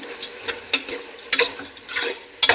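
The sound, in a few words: stirring tomatoes with rock salt in a cooking pan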